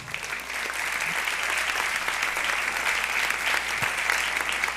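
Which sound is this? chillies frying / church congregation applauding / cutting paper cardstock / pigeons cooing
church congregation applauding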